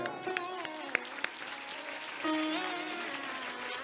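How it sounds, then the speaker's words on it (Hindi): An audience at a Shiv Puran religious discourse claps to welcome the preacher. The applause is faint and distant, with a few sharper claps standing out and a held musical tone in the background. "महाराज जी के स्वागत में जोरदार तालियां"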